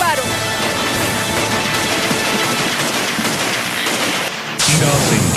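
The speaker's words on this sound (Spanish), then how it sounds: "Escuchen los disparos." Gunfire aimed at the presidential palace during the 4 February 1992 coup attempt in Venezuela comes through as dense, rapid crackling bursts over a noisy broadcast recording, followed by a sudden loud shift in tone near the end.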